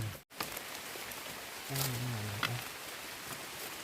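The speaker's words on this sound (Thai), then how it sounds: "เสียงฝน" Steady heavy rain hisses throughout in a bamboo forest, broadband and even, with a brief low animal-like moan partway through.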